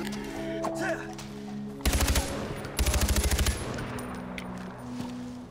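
A rifle fires in the video game Far Cry 4, in two loud bursts of rapid shots separated by a short gap, over quieter ambient game sound. No one speaks.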